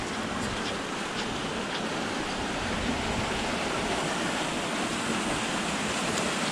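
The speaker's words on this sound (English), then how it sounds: "you can hear the noise there of all the water rushing" Rainwater rushing through a drainage sewer beneath the street, a dense, unbroken roaring hiss like a waterfall, steady and fairly loud throughout with no voices.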